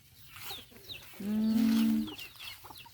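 A single chicken near a farm field gives one clear, drawn-out cluck-like call, moderately close, with faint bird chirps around and no talking.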